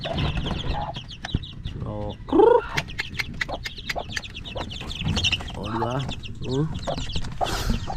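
A hen and her growing chicks cluck and cheep nearby in a farmyard coop, with repeated clucks and short calls mixed with a person talking in the background.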